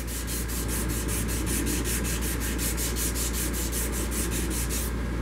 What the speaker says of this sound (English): once I finish doing my 220 sandpaper, I'll come back and recut those grooves